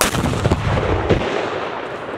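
A Civil War cannon built in 1865 fires with a loud, close blast, and a rumbling echo decays over the next two seconds.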